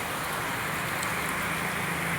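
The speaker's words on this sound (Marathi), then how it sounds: "पाऊस बघा बाहेर कसा पडतोय" Heavy morning rain falls outside in a village, a steady, even wash of noise with no break.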